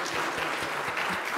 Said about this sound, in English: we invite you to stand, so that we can give you a round of applause for your birthday and your anniversary